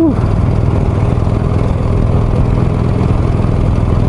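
A Harley-Davidson motorcycle engine rumbles steadily and loudly from close by while climbing a winding hill pass, a constant low drone with wind noise and no pauses.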